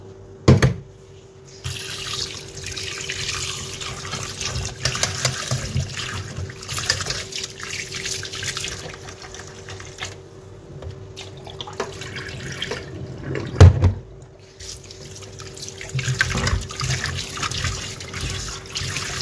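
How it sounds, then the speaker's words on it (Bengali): Fish being washed under a running tap, a steady splashing stream of water into a sink with occasional heavier splashes and knocks, continuous and close, no talk. "মাছগুলিকে ভালো করে ধুয়ে নেব।"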